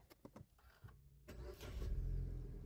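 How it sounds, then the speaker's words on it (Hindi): A car's engine cranks and catches after a push-button self-start with the brake pedal held, followed by a steady, low idle rumble close by; a few clicks and knocks come before it, with no talk. "स्टार्ट तो हम कर लिए गाड़ी को"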